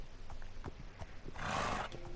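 A horse in a video game gives a clear whinny in the middle, preceded by a few soft hoof clops, close and fairly loud with no talking over it.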